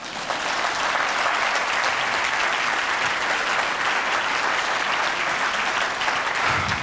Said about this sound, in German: Sie sind dran zu klatschen.